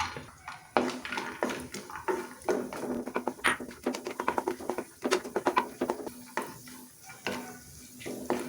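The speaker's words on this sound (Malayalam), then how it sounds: "ഇനി നമുക്ക് ഈ അണ്ടിപ്പരിപ്പ് ഒന്ന് വറുത്തെടുക്കണം" Cashew nuts frying in ghee in a pan, with steady sizzling and frequent scraping, stirring clinks of a utensil against the pan, close and moderately loud.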